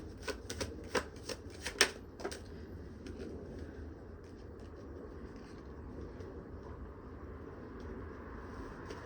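Tarot cards are shuffled and drawn by hand in a quiet room, a cluster of crisp riffling flicks and snaps over the first couple of seconds, then only faint background hum and distant traffic.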